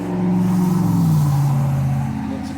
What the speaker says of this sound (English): Man, the traffic's terrible today.